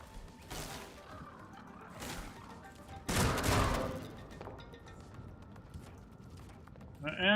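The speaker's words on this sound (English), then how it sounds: "You did not shoot that shit at me" Gunfire from a video game, with a loud burst of shots a little past the middle and a few quieter bursts earlier over a busy background, ending in a sudden rising electronic tone; a voice talks throughout.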